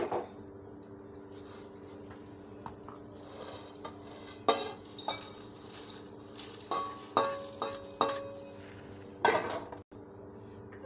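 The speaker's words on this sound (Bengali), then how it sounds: "এবার এগুলো গরম হয়ে গেছে এবার ঢেলে নিচ্ছি মিক্সিতে পেস্ট করব" Heated whole spices and cashews for navratna korma being tipped from a pan into a mixer jar: scattered metallic clinks, taps and scrapes of utensils against metal, irregular and fairly close, with no talking.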